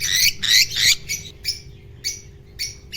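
Lovebird chicks squawk and chirp in short harsh bursts, several loud calls close together at first, then sparser chirps spaced through the rest, close by with a steady low hum beneath.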